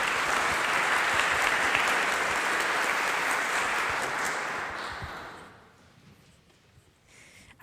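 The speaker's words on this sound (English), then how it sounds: "Please welcome her with a warm round of applause" An audience gives a warm round of applause for a speaker at a talk on space architecture, sustained dense clapping that tapers off after about five seconds into near quiet.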